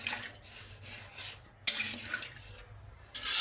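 Water poured into a pan of koi fish and cauliflower curry to make the gravy: a soft, close splashing rush that comes in a few surges, with two sharper sloshes.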